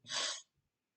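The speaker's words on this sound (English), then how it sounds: "I had to sneeze." One sharp, breathy sneeze, close and fairly quiet, followed by silence.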